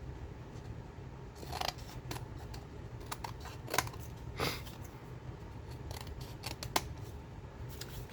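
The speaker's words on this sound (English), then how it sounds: "let's go ahead and trim off this edge and make this nice and even" Edge of a paper file folder trimmed for a handmade folio, a series of crisp, fairly quiet snips and cutting clicks spread irregularly through a hushed room.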